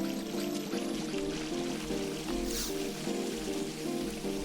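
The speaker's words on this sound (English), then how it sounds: "we're gonna go right over here where this waterfall is" A waterfall in the video game Final Fantasy XI gives a steady rushing pour of water, constant and fairly even throughout, with no voices.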